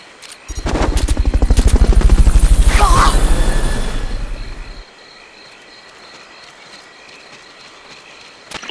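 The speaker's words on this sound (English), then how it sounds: "Fulton Recovery subject confirmed onboard helicopter." A Fulton recovery helicopter in Metal Gear Solid Peace Walker thrums with loud, rapid rotor pulses for about four seconds, then cuts off abruptly, leaving a quiet ambient bed.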